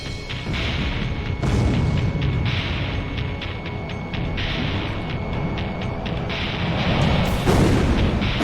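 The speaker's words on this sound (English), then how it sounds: "I have to stop these bombings." Heavy bombing explosions and rumbling booms over a burning city in the Ace Combat Zero air combat game, a dense continuous roar with repeated deep blasts swelling louder near the start and end, with no talk.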